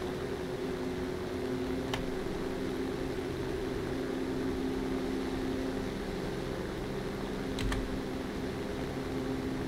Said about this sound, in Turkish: Take-off flapları açtım. Ve havalanıyorum.